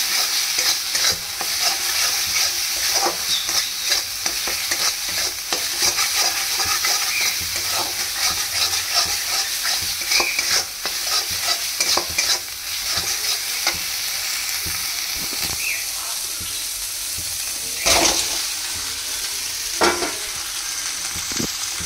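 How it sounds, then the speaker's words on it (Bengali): Potatoes frying with ginger, cumin, green chili, turmeric and Kashmiri chili in a pan, a constant loud sizzle with repeated spoon stirring and scraping strokes throughout. "এবার মশলাটা কষে নিয়ে আলু ভাজা"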